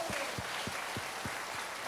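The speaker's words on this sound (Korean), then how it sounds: "박수." A church congregation claps at a large prayer gathering, a burst of scattered applause with several distinct claps standing out, moderately loud in a reverberant hall, with no speech over it.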